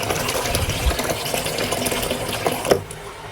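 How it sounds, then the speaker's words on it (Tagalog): Water is poured into a pan of pancit bihon while it cooks, a continuous gushing splash with small clatters, fairly loud and close, and no one speaks. "magdadagdag tayo ng tubig dito. Kasi po baka matuyuan po yung pansit natin"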